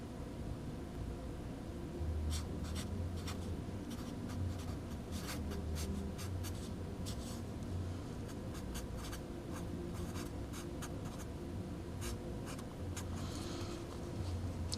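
Pen or marker strokes on a surface while writing out math, a steady scratchy texture running the whole time with sharp tapping accents, fairly faint against a constant background hiss.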